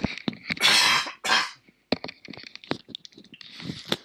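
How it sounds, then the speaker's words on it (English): A person coughs several times in harsh, close bursts, followed by throat clearing and small mouth noises, with no talking. "Got a cough."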